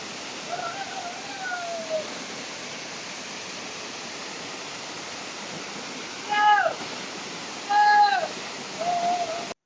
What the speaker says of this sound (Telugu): ఇంకా ఒకసారి సౌండ్ వినేసేయండి ఎంత ఫోర్స్‌గొస్తుందో వాటర్ ఫాల్స్.